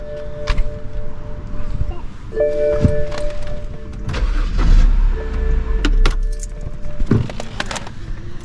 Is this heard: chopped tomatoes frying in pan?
no